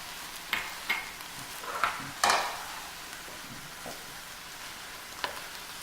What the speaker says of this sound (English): the most important thing is you want to make sure you stir constantly